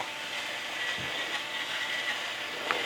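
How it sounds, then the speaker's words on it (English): Pork chops searing in a hot pan, giving a steady close hiss of sizzling fat that carries evenly throughout, with a couple of faint knocks and no talking. "I'm going to start loading these into my hot pan over here. Oh, hear that sizzle?"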